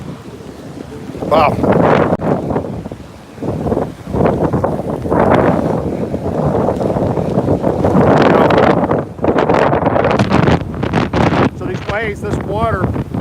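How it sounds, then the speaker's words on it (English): Hurricane Dorian's storm surge pounds the Florida shore, with roaring gusty wind buffeting the microphone and crashing, churning water in a continuous loud rush, while a person briefly exclaims. "this is the water surge coming in, and it's pretty intense here"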